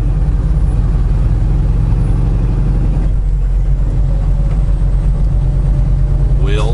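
A truck engine drones steadily at low pitch while driving, with a gear downshift partway through; a voice talks over the continuous rumble.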